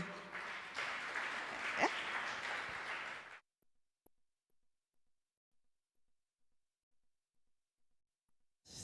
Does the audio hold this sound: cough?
no